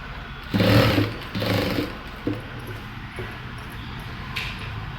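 A sewing machine stitches frills onto a saree in two short whirring bursts near the start, followed by a quieter clack and faint mechanical noise in a still room.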